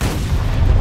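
Frag grenade blast in the Gears Tactics video game: a loud, sustained low rumbling boom that fills the whole moment with no voices over it.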